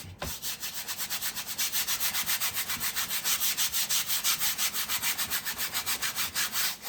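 Oil paint is scrubbed onto a floral painting with fast, even back-and-forth strokes, a close, loud rhythmic rasp repeating several times a second without pause.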